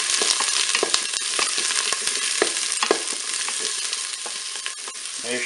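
Zucchini sizzles in olive oil inside a Cookeo multicooker pot, with a dense, continuous frying crackle and occasional stirring clicks, close and loud throughout.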